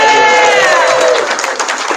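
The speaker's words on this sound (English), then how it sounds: "Give yourselves a round of applause." A pub crowd at a live music night in a hotel applauds and cheers loudly and steadily, a dense, sustained wash of clapping with a few whoops, no talk over it.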